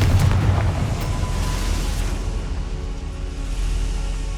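A Confringo blast spell goes off in Hogwarts Legacy, a loud, dense explosive burst at the start that decays into a long rumbling roar, with no talk.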